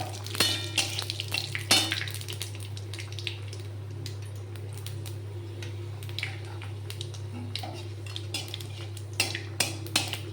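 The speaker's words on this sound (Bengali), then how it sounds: "কড়াতে তেল দিলাম, এই শুকনো লঙ্কা ফোড়ন দিলাম, পাঁচ ফোড়ন দিলাম" Dried chilli and five-spice tempering frying in oil in a wok, heard as a soft sizzle under repeated metallic clinks and scrapes of a utensil against the pan, over a low steady hum.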